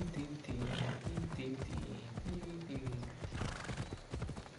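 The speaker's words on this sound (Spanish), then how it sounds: "Caballo." A horse gallops in the video game Assassin's Creed Odyssey, a continuous close clip-clop of hooves with a brief whinny, heard over game music and a voice.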